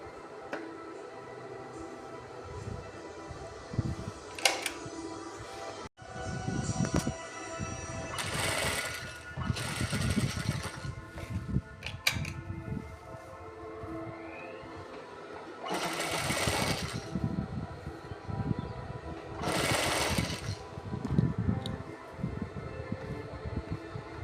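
A sewing machine stitches falls onto a saree in repeated bursts of fast mechanical whirring, close and moderately loud, separated by brief pauses.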